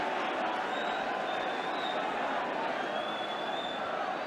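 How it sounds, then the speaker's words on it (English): Football crowd at a 1981-82 Swansea City versus Leeds United match booing a foul, a steady, dense roar of boos and crowd noise held throughout with no pauses. "the boos from the crowd"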